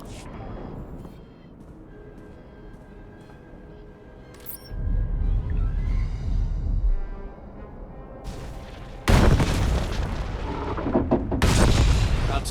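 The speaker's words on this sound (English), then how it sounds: "The charges have detonated." Explosive charges detonate in SWTOR, Star Wars: The Old Republic. Two loud, low booming bursts arrive a few seconds apart and rumble on, following a quieter stretch of ambience.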